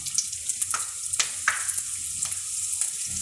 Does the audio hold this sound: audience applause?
no